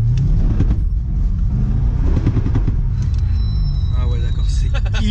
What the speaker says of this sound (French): Il y a le bruit du pont et écoute.